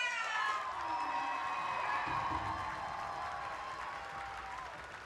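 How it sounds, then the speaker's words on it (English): A school audience applauding an 8-year-old boy honoured for saving a choking classmate, a steady wash of clapping heard from a distance that slowly fades. "I want you to clap louder than you've ever clapped before"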